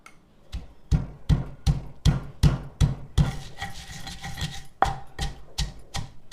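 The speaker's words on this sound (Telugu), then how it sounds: "గుడ్డు కారానికి ఇలా రోట్లో దంచుకోండి, టేస్ట్ బాగుంటుంది." Rhythmic pounding of coarse salt and egg karam ingredients in a stone mortar, about a dozen sharp thuds close and loud, with a short stretch of grinding and scraping between strikes.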